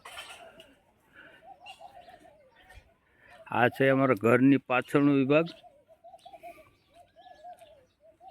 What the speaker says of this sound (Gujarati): પક્ષીઓ કેવા મસ્ત સુંદર મજાનું બોલી રહ્યા છે કિલ્લોલ કરી રહ્યા છે